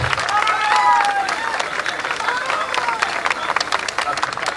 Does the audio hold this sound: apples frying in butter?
no